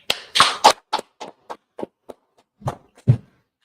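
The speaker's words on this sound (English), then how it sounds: "Clap it up." About a dozen sharp hand claps from a news desk studio show, loud and close at first, then spacing out into an irregular, thinning pattern before stopping.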